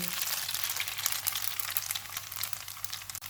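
Boiled spaghetti and an egg mixture fry in a pan with a steady, close crackling sizzle, a constant bright hiss with small pops throughout and no talking.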